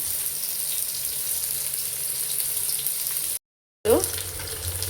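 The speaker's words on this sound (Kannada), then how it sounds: "ಇವಾಗ ನಾನು ಇದನ್ನು ಸ್ವಲ್ಪ ಆಯಿಲ್ ಹಾಕಿ ಲೋ ಫ್ಲೇಮ್ನಲ್ಲಿ ಇಟ್ಕೊಂಡು ಫ್ರೈ ಮಾಡ್ತಾ ಇದ್ದೀನಿ" Rupchand fish frying in oil over a low flame, a steady close hiss of sizzling oil broken by a brief drop-out, then the crackle resumes with a short scraping sound.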